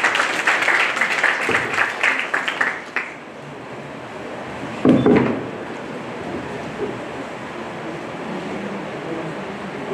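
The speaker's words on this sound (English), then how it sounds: "Can we have a round of applause, please?" An audience claps at a college inauguration ceremony in a hall, a dense burst of applause lasting about three seconds before it stops, followed by quiet room tone and a brief thump.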